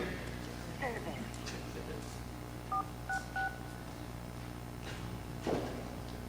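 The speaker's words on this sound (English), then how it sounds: "So I will be dialing star 41702, redacted, and then we'll go from there." Telephone keypad sending DTMF tones while dialing a star feature code, a few short faint beeps spaced apart over a steady low hum, with speech around them.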